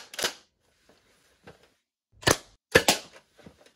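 Sharp gunshots fired at targets: a single crack, then a louder shot about two seconds later followed quickly by a second, each with a short decaying tail against quiet gaps.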